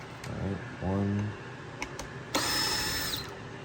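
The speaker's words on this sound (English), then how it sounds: "I'm gonna go ahead and just use power drill to unscrew it" Power drill unscrewing the mirror screws on a 2018–24 Toyota Camry, short whirring bursts of the motor separated by pauses, close to the listener, with a small click between runs.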